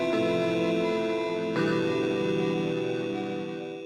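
A bit bass synth patch plays sustained chords with bright buzzing harmonics, changing chord once midway before the sound fades out, with no one talking.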